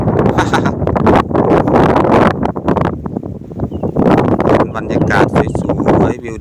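Strong wind buffets the microphone in an open rice field where cattle graze, gusting in loud uneven bursts and rustling throughout, with speech heard along with it.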